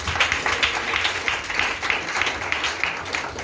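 A congregation applauds during a wedding service in a steady, dense round of clapping that holds at even loudness throughout, with some voices mixed in.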